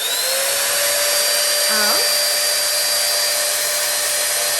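An AliExpress copy of a Dyson Airwrap drying hair gives a steady, loud, high-pitched motor whine with a constant airflow hiss, and a brief pitch shift partway through.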